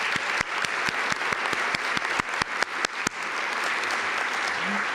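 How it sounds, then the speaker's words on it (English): Dense, steady applause from a conference audience at the Talent Forward 2019 event, with sharp individual claps standing out in the first three seconds before it settles into an even wash of clapping. "I know that you'll join me in a big round of applause for Cheryl and Jason and Jamie"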